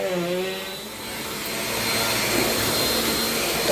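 A vacuum cleaner runs on carpet with a loud, steady whine and roar, holding constant throughout, while a dog's brief whimper-like tone sounds at the very start.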